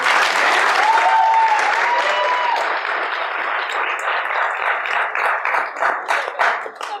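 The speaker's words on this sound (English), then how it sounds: "Do you guys think you're capable of applauding like that?" Improv show audience applauding in a dense, loud burst that thins toward the end into scattered individual claps.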